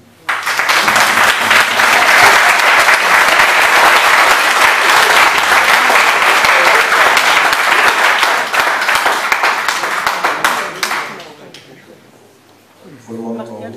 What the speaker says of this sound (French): Valentin, tu mérites tous nos applaudissements